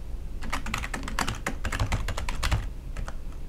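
Someone typing a new password on a computer keyboard, a quick irregular run of close, crisp key clicks in bursts, with no talk.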